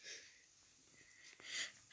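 A single short, explosive sneeze bursts out at the end after a brief hissing inhale, close to the microphone with near silence before it, during Roblox Brookhaven gameplay.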